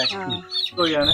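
A couple of close, loud calls from white naked neck chickens, drawn-out and tonal, separated by a brief pause.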